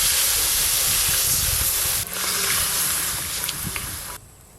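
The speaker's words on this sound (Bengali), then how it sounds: "এবার পরিমাণ মতো জল দিয়ে দেবো।" Water poured into a hot cooking pan while a Bengali fish curry with small brinjal cooks, giving a loud, close, steady steaming hiss and sizzle that runs for about four seconds before cutting off.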